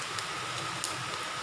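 Whole spices such as cinnamon, cardamom and dried red chillies sizzle in a wok of hot oil, giving a steady, even hiss with faint crackles throughout.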